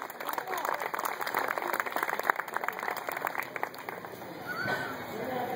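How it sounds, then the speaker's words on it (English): Audience clapping at a horseradish pageant in Collinsville, a scattered patter of many hands rising and thinning over several seconds, fairly distant, with no clear voices. "Let's give her a big round of applause"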